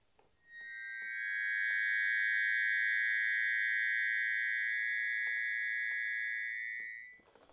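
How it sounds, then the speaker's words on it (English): Accordion piccolo reed holding a very high, dense cluster, a piercing, steady shrill tone that swells in, sustains for about six seconds, then cuts off. "that's just before a cluster very high up using the piccolo reed"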